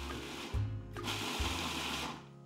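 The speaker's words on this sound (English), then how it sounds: "pop it into a food processor" A food processor motor whirs in short bursts, pulsing cauliflower into small grains, stopping and restarting in a couple of pulses, loud and close with a steady mechanical hum.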